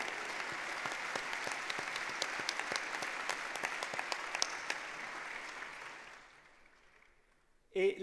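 Audience applause at a biotech award ceremony, a broad wash of clapping from a large room that fades out near the end, followed by a brief voice.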